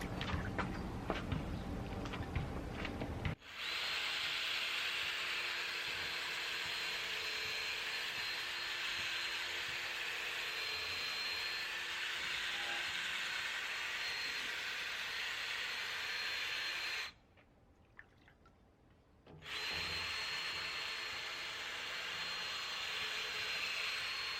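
A headlight lens is sanded with 4000 grit sandpaper from a Rain-X headlight restoration kit, giving a loud, steady whirring hiss that runs continuously. The hiss breaks off once for about two seconds, then resumes.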